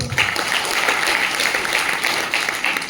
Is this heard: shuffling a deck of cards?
no